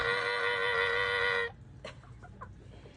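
A chicken being fed gives a loud, drawn-out call lasting about a second and a half, then fainter scattered clucks and scratching follow nearby.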